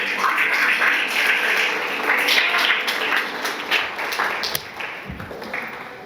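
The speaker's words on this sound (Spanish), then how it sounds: "Denle un fuerte aplauso" A church congregation claps loudly in sustained applause that gradually thins and tapers off toward the end.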